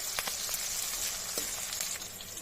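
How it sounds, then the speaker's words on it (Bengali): Onions frying in hot oil for a chili paneer dish give a steady, close sizzling hiss with a few faint crackles and pops, heard alone with no talking. "এবার ওই তেলেই আমরা পেঁয়াজগুলো ভেজে নেব।"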